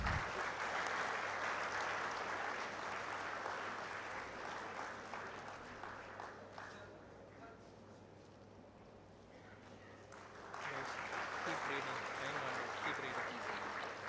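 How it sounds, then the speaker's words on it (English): An audience at a drone development challenge ceremony applauds in a hall with a low electrical hum; the clapping thins out midway, then swells back to full strength. "please give a round of applause."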